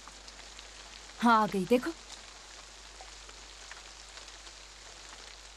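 Heavy rain pours steadily outside a home in a Hindi TV drama, a constant wash of noise with someone speaking briefly over it.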